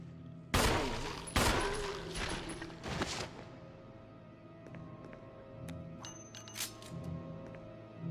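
Gunshots in the Resident Evil HD video game: two or three loud sharp blasts near the start, then quieter mechanical clicks and clinks as the scene continues.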